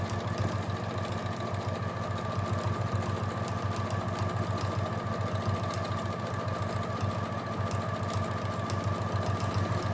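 A sewing machine stitching a quilt, running in a fast, even mechanical patter with a steady motor hum, continuous and close for the whole stretch, no voices.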